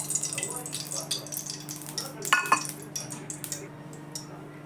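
Hot oil crackles softly in a kadai on the stove while a simple tomato vegetable dish is being cooked, with faint continuous sizzling, a spoon clinking against the pan and occasional light taps, fairly quiet and with no talk.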